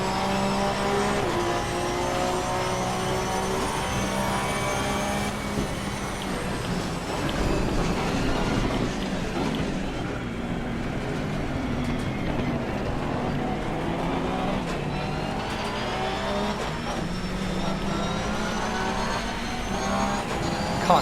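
A pack of GT race cars in Assetto Corsa Competizione powering away from the start line, a dense continuous roar of many engines revving and accelerating together, loud and steady throughout.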